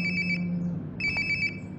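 A phone rings in the video game Life Is Strange: Before the Storm, sounding as two bursts of bright electronic ringtone pulses separated by a short gap, over a low steady hum.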